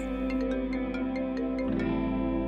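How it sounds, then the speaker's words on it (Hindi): A phone ringtone plays for an incoming call, a steady electronic melodic tone with repeating pulsed notes, shifting pitch near the end, heard alone without talk. "फोन आ रहा है आपका।"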